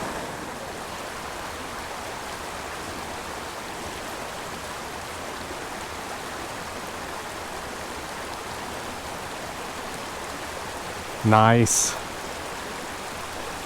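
Broadband rushing water from a creek riffle flows steadily and close throughout, with a brief spoken word near the end.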